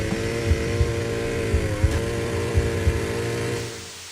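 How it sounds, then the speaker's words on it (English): Pigsy's chainsaw in a horror video game, a steady droning motor whine with periodic revving surges, loud and close, before cutting off at the end. "stabbing through elevator doors with that freaking chainsaw"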